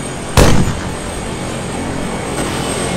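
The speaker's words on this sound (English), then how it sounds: "What the hell? U.S. helicopters?" U.S. helicopters close in during an ArmA 3 battle: a sharp loud burst opens, then a continuous, even rotor and engine roar holds steady through the rest of the short stretch.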